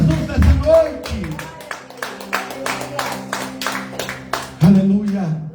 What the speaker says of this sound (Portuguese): Só quem crê, vê mais uma linda salva de palmas. Aplauda Jesus nessa noite.